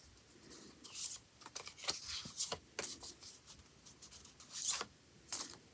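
Paper challenge cards and sticker sheets for a homeschool Bible study being shuffled and flipped through by hand, with brisk, close, irregular bursts of papery rustling and sliding.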